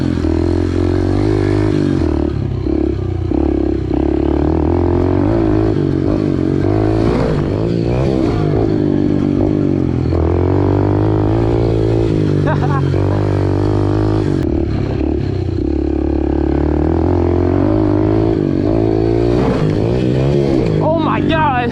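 Yamaha TT-R dirt bike revving hard through a ride with jumps, the engine steady and loud with rising and falling throttle, chatter and scraping mixed in, and voices talking over it.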